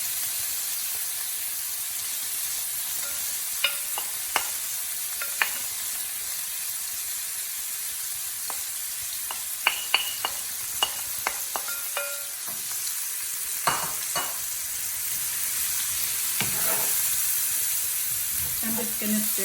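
Onions fry in oil with a continuous soft sizzling hiss while a utensil knocks and scrapes the pan in scattered clicks as they are stirred, close and steady throughout.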